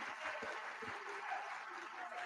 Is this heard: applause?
yes